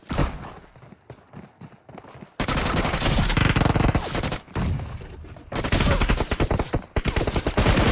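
Gunfire in a video game tournament match: after a quieter opening, loud sustained bursts of rapid shots fill most of the stretch, broken by two short pauses.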